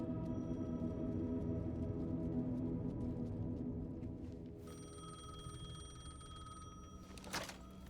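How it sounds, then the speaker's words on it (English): A payphone rings in the video game Alan Wake 2, with a steady electronic ring tone over a low, droning ambient hum. The ringing grows brighter about halfway through, and a brief sharp knock comes near the end. "The payphone was ringing."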